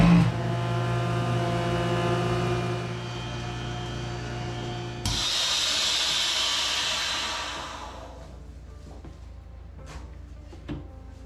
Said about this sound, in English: we're gonna vacuum pack all these